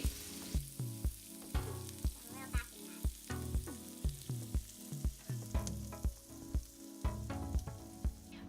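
Chicken and vegetables sautéing in a pan for chili soy sauce chicken, a steady sizzle broken by regular rhythmic clanks and scrapes of a utensil turning the food, close and fairly loud, with no talk.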